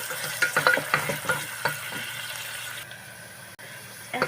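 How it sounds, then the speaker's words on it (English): Onions fry in a pan for a ridge gourd and mutton curry, crackling and scraping with a few stirring knocks close by, before the sizzle drops to a quieter hiss. "Now I'm going to fry them until they become translucent."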